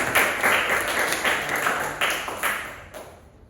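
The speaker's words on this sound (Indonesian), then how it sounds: "Mari kita beri aplaus untuk semuanya." An audience applauds after a presentation, with a run of bright, rhythmic clapping bursts that carries on for several seconds and then thins out and fades at the end.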